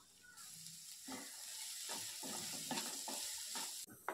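Chopped onion, two finely cut green chillies and half a teaspoon of salt sautéing in a pan for vegetable cutlets, a quiet sizzle broken by several soft stirring scrapes, then a brief clatter at the end.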